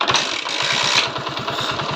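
A small TVS XL 100 moped engine, kick-started, sputters and chugs loudly and continuously at a steady pulsing rhythm, close by, as though it has just caught after being started.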